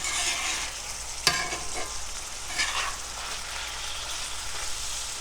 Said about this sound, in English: So just keep chopping it up, turning it.